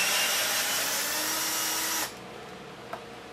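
A power drill or driver backing out the screws of a rear skid plate on a Losi 5ive-T RC truck, one steady loud whir for about two seconds, then stopping with a few faint clicks.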